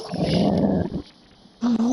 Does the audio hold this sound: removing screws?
no